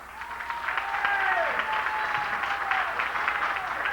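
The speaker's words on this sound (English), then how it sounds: "I want y'all to give a nice round of applause to my partner, Miss Kim Yvette." Steady applause rises from an audience at a live music show and holds at an even, fairly loud level throughout, with a sustained tone floating above the clapping.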